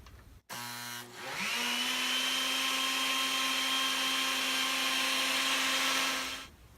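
A steady electric mixer whirs through a dairy-free ice cream base, holding one continuous motor drone after a brief start-up, loud and close with no talking.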